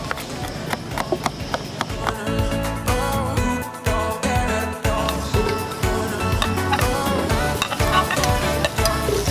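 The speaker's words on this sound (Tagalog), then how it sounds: "igigisa muna natin yung bawang sibuyas at yung luya" Garlic, onion and ginger sizzle steadily in a hot pan, with stirring and scraping clatter running throughout, loud and near, and faint voices in the background.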